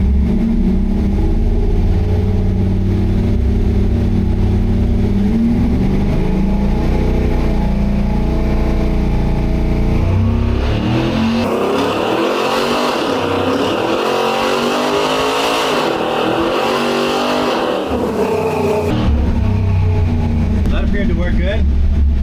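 LS3 V8 in a C10 truck running a Holley Terminator X tune, starting up and settling to a steady idle, loud and continuous with a rising rev in the middle before dropping back down.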